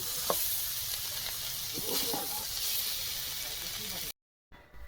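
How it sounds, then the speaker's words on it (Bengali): Soybeans with a little turmeric powder frying lightly in a pan, a steady broadband sizzle with a few soft clicks of stirring, close up, cutting off abruptly near the end. "খুব সামান্য হলুদ গুঁড়ো দিয়ে দিচ্ছি সোয়াবিন কিন্তু খুব কড়া করে আমি ভাজলাম না হালকা ভেজে নিয়েছি"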